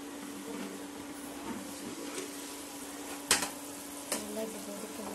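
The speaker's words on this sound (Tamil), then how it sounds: "நல்லா கொதிக்குது" Water boils in a pot on the stove for mint rice, giving a steady, soft bubbling hiss with a few brief clinks of utensils against the pot.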